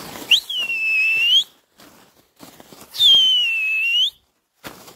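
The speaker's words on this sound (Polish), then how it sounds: "Sorry za gwizdy." Two long, loud human whistles, each sliding up then holding steady, ring out at a pigeon market in Malbork, separated by a pause with brief rustling and handling noises.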